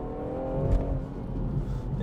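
A BMW M140i driving down a country road, its engine a steady low rumble with a brief swell around the middle, heard from inside the car and continuous throughout with no talk.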